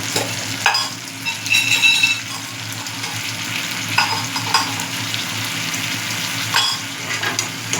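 A spice paste with cumin powder, salt and turmeric sautéing in a pan makes a steady, loud close-up sizzle, broken by occasional scraping stirs of a spoon, with no voices.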